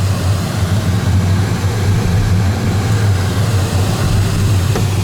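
Steady, loud low drone of a light propeller airplane's engine and prop heard from inside the cockpit on approach to the runway in a strong headwind, continuous and unbroken.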